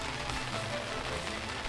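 Rain falls on a garden near a greenhouse, a soft, steady patter and hiss lasting under two seconds, fairly close and even, with no talking.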